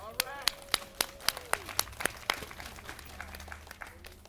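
An audience claps hands together in a steady rhythmic beat at an outdoor historical marker dedication ceremony, with sharp regular claps over murmuring voices and some talk.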